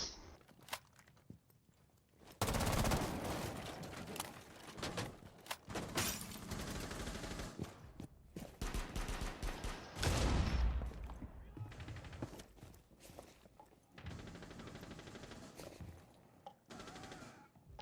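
Gunfire from a first-person shooter game comes in dense automatic bursts and sharp single shots, loud and close, broken by quieter gaps with faint footsteps.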